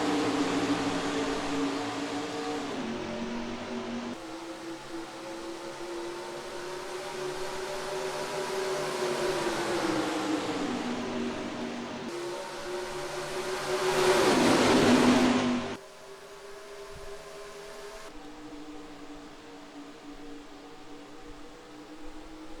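NASCAR stock cars racing at Homestead in NASCAR Racing 2003, steady loud engine drone with shifting pitch as cars pass, a rising roar peaking briefly before dropping to a quieter hum.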